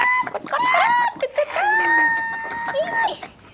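A rooster crows in one loud, close, drawn-out call with a shrill held middle section, preceded by clucking sounds; it could be a person imitating the bird.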